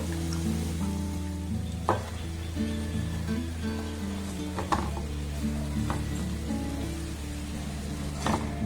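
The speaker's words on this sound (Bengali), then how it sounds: "এগুলোকে আমি খুব ভালোভাবে ভেজে নিয়েছি এবার এগুলোকে আমি উঠিয়ে নেবো" Maida-and-sugar dry sweets frying in hot oil give a steady, close sizzle with faint bubbling crackle and a few soft utensil knocks; no one speaks.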